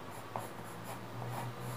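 A pencil sketches an Azumarill Pokémon on paper, making soft, close scratching strokes in a fairly steady rhythm, quiet and alone.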